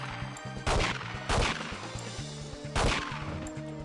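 Gunfire in the N64 game 007: The World Is Not Enough comes as four sharp, loud bursts spaced irregularly over a steady low game backdrop; no talking.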